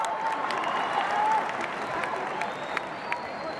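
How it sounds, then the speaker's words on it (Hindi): Crowd at a political rally clapping steadily for several seconds, dense, even applause heard from within the audience, with a few sharper claps standing out. "ठोको ठोको, ताली ठोको।"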